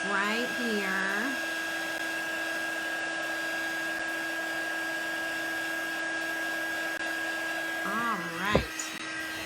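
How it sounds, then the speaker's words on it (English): A handheld heat tool blows a steady, loud whirring hum while melting embossing powder on stamped paper daisy petals, switching off briefly at the end, with a voice speaking over it. "It's heating the powder and melting it."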